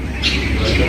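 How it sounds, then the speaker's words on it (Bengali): Several birds call together in a shady village near Bolpur Shantiniketan, their bright chirps rising twice over a steady background murmur during one short moment. "প্রচুর পাখি ডাকছে"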